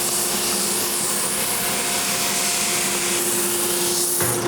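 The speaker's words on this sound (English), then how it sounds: "we're gonna sneak up on its final thickness on the belt sander" Loud, continuous grinding whir of a belt sander sanding cork, running steadily throughout, with a slight shift in tone near the end.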